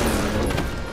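Gunfire rings out in a video game during a sniping exchange, a quick, loud, close burst that fills the whole brief moment with no talking over it.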